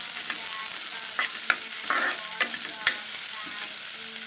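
Green chilies and onions fry in a little oil for aloo paratha filling, a soft continuous sizzle broken by intermittent spatula scrapes and stirs, close and fairly quiet with no voices.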